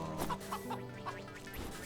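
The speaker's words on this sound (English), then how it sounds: "That is a very nasty goose." A goose in the video game Wytchwood gives a short run of rhythmic, nasal honks and clucks over a steady game background.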